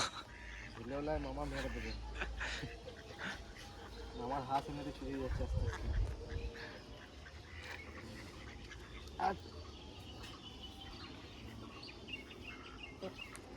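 Ducks on a pond quack and call at moderate distance while people talk over them, with outdoor background noise throughout.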